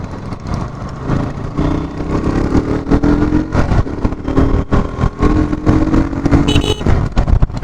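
A 2021 KTM RC 200 BS6 motorcycle engine revs hard while riding, a loud, close, buzzing drone that climbs and dips with throttle changes and sharp gear-shift breaks, with no talk.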